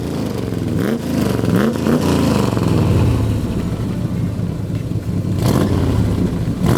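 Naturally aspirated 1969 Corvette C3 Stingray big block V8 of over seven liters with side pipes, a loud, deep, rumbling exhaust with revving swells and throttle blips, heard close and continuous with no talk.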